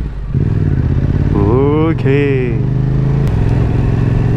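A motorcycle engine runs steadily and loudly up close while being ridden, running low on fuel, with a brief spoken word partway through and a voice over the ride.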